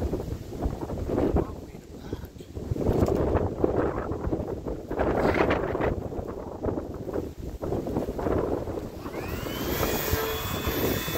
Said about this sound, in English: Wind just keeps coming from different directions